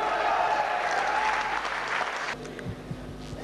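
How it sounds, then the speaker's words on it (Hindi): An audience gives a loud burst of applause for an award recipient, dense clapping that runs for about two seconds and then cuts off, leaving a quiet room with a few faint knocks. "आपकी जोरदार तालियों के बीच एक बार खड़े होके बहुत जोरदार सम्मान दें टेक्निकल अचीवर मिस्टर शरद विश्वास।"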